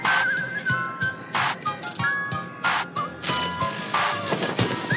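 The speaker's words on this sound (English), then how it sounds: "The whistling, man." Clear, melodic whistling from the Honkai: Star Rail Sparkle trailer, bright sustained tones sliding between notes over dense music and sharp percussive hits, loud and continuous throughout.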